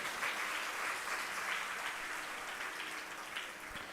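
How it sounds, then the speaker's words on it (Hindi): Audience applause during a religious discourse, a soft, steady patter of many hands clapping from a distance, even and sustained without talk. "तालियां तो अब के बार आपने कुछ ज्यादा नहीं बजा दी हैं"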